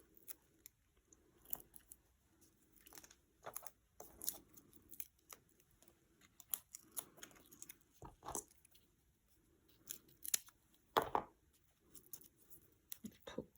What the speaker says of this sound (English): So I'm just going to cut some foam pads again.